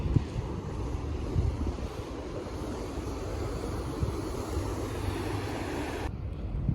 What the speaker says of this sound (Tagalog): at malakas yung alon.